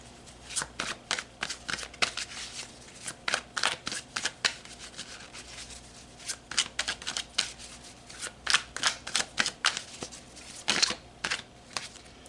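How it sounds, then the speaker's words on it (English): Tarot cards shuffled by hand in a steady run of quick riffling bursts and soft slaps, close and fairly quiet, with no talking. "let's pull some more tarot and go deeper into that message"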